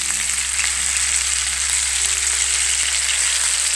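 A kilogram of anjal fish frying in coconut oil, a loud, dense, unbroken hiss of sizzling oil held steady and close throughout, with no voices.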